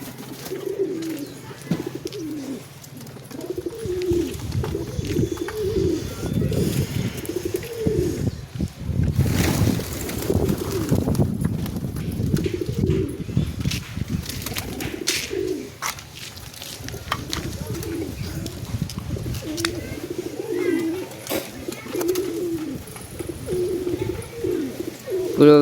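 Pigeons coo in low, repeated bubbling phrases close by, with a steady low rumble beneath and a busier stretch of overlapping noise midway.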